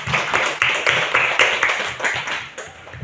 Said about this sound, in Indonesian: tepuk tangan buat temanmu